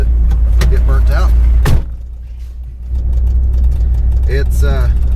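A Chrysler New Yorker that has sat unused for a long time runs rough, its engine giving a steady, loud, low rumble close by as a person talks over it.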